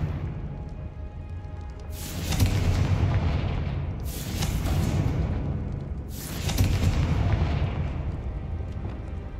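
Three deep, booming spell explosions in the Hogwarts Legacy game, each a loud blast with a long rumbling tail, spaced about two seconds apart over a low ambient drone.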